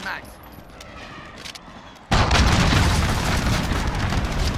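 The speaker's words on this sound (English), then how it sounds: "Allied cruise missile launched." A cruise missile strike in Call of Duty: Modern Warfare lands after a quieter stretch of distant battle noise, erupting into loud, continuous explosive blasts and crackling gunfire that roar on without letup.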